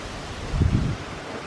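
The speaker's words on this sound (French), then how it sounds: "Regardez le vent de gueudin qu'on a aujourd'hui." Strong wind blows outdoors by a chalet, a low rumbling buffet hitting the microphone in a brief surge over steady background noise.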